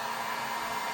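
Heat gun blowing on adhesive residue, a steady close hiss and whoosh of hot air, constant and unbroken.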